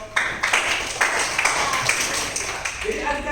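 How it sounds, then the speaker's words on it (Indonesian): An audience applauds at a teaching session, a dense patter of clapping hands that fills the short stretch at steady strength before it thins out toward the end. "silakan tepuk tangan untuk."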